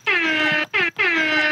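A JBL PartyBox 310 speaker plays its air horn DJ effect as three loud, blaring horn blasts, a long one, a short one and another long one, close and alone without speech.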